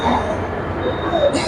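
A train at Old Delhi railway station gives a steady, fairly loud rumble with metallic squeal-like tones, continuous for the whole moment with no talk over it.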